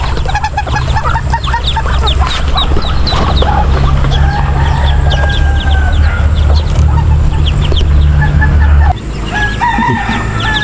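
A mother hen clucking amid a busy backyard-farm flock, with peeping chicks and occasional crowing, continuous and close over a low background rumble.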